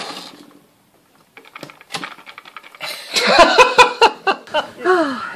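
A sewing machine stitches canvas for a sail cover, its needle running in short, quick bursts of rapid mechanical clatter that start faintly and grow louder and denser toward the end.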